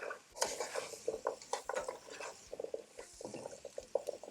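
A spoon stirs thyme and onions in a soup pot for butternut squash soup, producing soft irregular scrapes and light knocks against the pot, fairly close and quiet.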